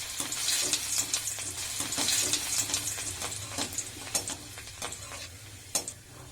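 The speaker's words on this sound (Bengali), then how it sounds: "এই তেলেই কাজু আর কিশমিশ ভেজে তুলে নেব।" Cashew nuts fry in hot oil left over from frying vegetables, giving a steady close bubbling sizzle with light scraping and clicks as they are stirred in the pan.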